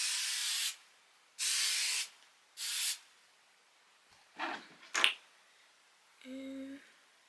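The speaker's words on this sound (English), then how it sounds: "I'm just gonna take some of this Hot spray, spray it on my" Hair spray misted onto flyaways: three short aerosol bursts close by, each under a second, then a few soft handling clicks and a faint brief tone.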